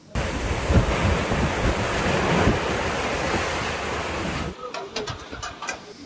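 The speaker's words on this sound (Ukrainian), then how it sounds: "Вітер був настільки сильним, що у цієї п'ятиповерхівки буквально зірвало дах." A violent storm wind during a tornado in Pavlohrad, strong enough to tear the roof off a five-storey apartment block, roars loud and close as dense, buffeting noise, then drops after about four seconds to fainter scattered rustles.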